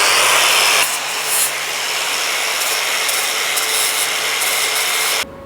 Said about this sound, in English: now I'm going to sand it down and see where we are